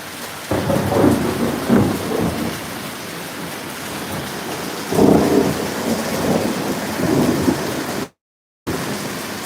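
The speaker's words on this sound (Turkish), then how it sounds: "Nasıl şimşek çakıyor ama" A heavy thunderstorm with lightning unleashes steady pouring rain, while loud rumbling thunderclaps roll through in several bursts. One brief dropout of total silence comes near the end.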